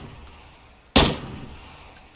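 A single gunshot in a video game fired toward the player, a loud sharp crack standing out from a quiet background with faint small clicks around it.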